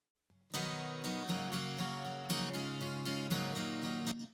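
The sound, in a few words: acoustic guitar with subtle compression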